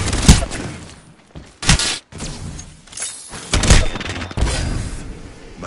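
Gunfire striking the player in a Halo-style shooter with a recharging energy shield, heard as several sharp, loud bursts and thuds in irregular clusters, with gaps of quieter ambience between them.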